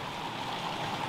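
Steady rushing of river water flowing into the Roche Abbey ruins site, a continuous broadband wash close by with no voices over it.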